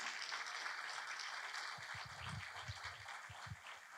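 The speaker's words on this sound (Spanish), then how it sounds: "Dale un aplauso a Él" Church congregation applauding, a dense broad clatter of clapping throughout, with some low thumps in the second half.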